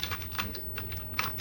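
Hard plastic toy robot parts from a Tobot Grand Champion with Alpha Plus snap and click together in a quick series of close, light taps, with no talking.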